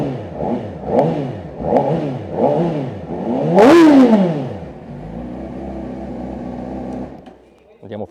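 A 2024 Honda CBR600RR inline-four sport bike fires up, then gets a string of sharp, loud revs in a steady rhythm, topped by a hard high-pitched climb and fall, before it settles into a lumpy idle and cuts off.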